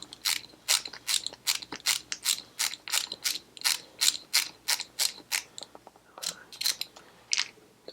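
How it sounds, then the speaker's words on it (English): A hand ratchet clicks steadily as a screw is undone on Shovelhead motorcycle electrics, about twenty evenly spaced sharp ratcheting strokes, close and alone, briefly faltering near the end. "let's get this screw undone"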